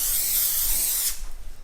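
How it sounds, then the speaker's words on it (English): Cooking spray hisses onto a baking tray for stuffed chicken breasts, one steady close spray lasting about a second before cutting off into quiet room noise. "spray the tray,"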